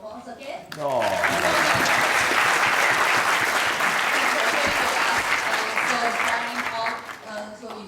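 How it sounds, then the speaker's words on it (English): A lecture-hall audience applauds a speaker at a university talk, with dense sustained clapping that swells after a brief opening of voices and murmuring, then holds steady and loud with some cheering. "Dr. Andreas, several rounds of applause again."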